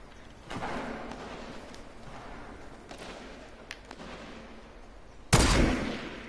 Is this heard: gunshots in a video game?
yes